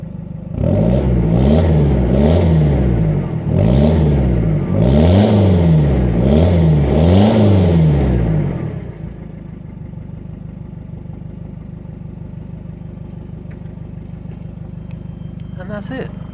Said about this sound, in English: I will give it a few revs and let you listen.